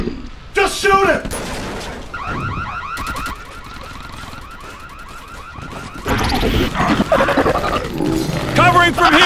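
Movie battle scene from Battle Los Angeles with bursts of rapid automatic gunfire and booms mixed with a wailing alarm-like tone, loud and close, under shouting voices.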